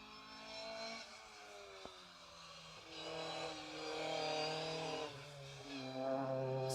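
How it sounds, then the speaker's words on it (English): Rally cars race along a Mull Rally stage on the Isle of Mull, their engines rising and falling as they rev and change gear, fairly distant and faint, with no voices. "Cars are coming thick and fast now."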